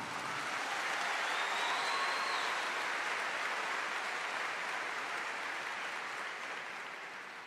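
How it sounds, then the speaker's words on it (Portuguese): A church congregation applauds together, a sustained, even roar of clapping from a large room that holds steady and then slowly tapers off, faint and distant in level. "E aplaude para confirmar."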